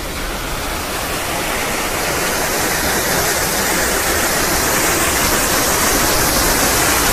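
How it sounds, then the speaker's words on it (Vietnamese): A stream flowing along a walking path, with a loud, steady broadband rush of water that goes on without a break. "mà có một cái dòng suối chảy dài suốt một đoạn đường"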